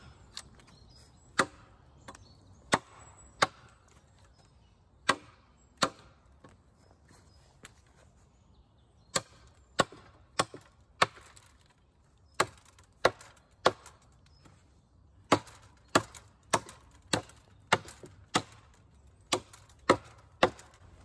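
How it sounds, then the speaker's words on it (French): An Esee Junglas knife chops a large section of very dry, stringy, dense dead beech wood. About two dozen sharp, close wooden strikes come at an irregular pace over a quiet outdoor background. "C'est du hêtre filandreux, très très très compact, très difficile à couper et ça rentre."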